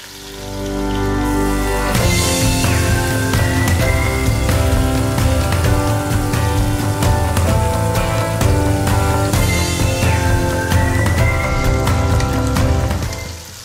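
Shrimp sizzle steadily in a hot pan, a loud continuous crackle like rain on a surface with dense pops, while background music plays throughout.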